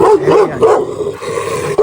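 Dogs barking and yipping during a dog fight: loud, close, rapid barks running almost without a break, mixed with higher yips and a whimpering edge, and no talking.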